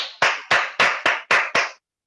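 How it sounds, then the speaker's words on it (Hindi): Six sharp, evenly spaced hand claps ring out in a steady rhythm and then stop, from the audience at a network marketing success-story event. "और अब तो होनी चाहिए तालियाँ"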